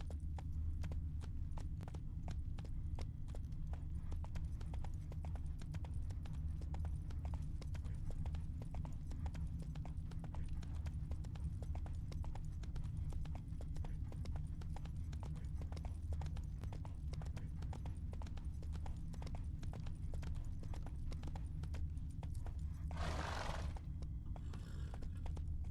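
Roach, Geralt's horse in The Witcher 3: Wild Hunt, galloping with a rapid, steady clip-clop of hooves over a low rumbling bed, continuing for about twenty-five seconds with a brief whooshing burst near the end.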